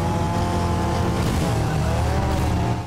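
Racing car in Need for Speed ProStreet with a loud, continuous engine roar and a tire squeal as it brakes, steady and close throughout.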